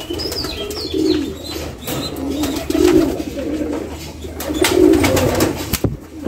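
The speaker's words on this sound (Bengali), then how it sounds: "এটা হলো অস্ট্রেলিয়ান ঘুঘু" Australian doves cooing in a pigeon loft, several low soft coos repeating at intervals, close and fairly loud over light background noise and faint chirps.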